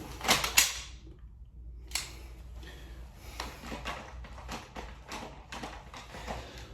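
Dry-fire pistol practice: a sharp click at the start, then a string of small, close clicks and taps from the trigger and slide, spaced irregularly over a quiet room.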